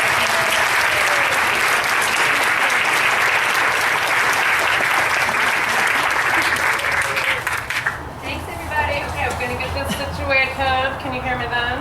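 An audience in a lecture hall applauding to welcome a speaker, a dense, loud, steady clapping that fades after about eight seconds as a voice begins talking.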